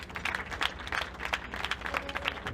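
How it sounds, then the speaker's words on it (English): A small audience at a graduation ceremony for an empowerment program gives a round of applause: quiet, scattered clapping in uneven bursts that fades briefly midway, then picks up again. "Please a round of applause."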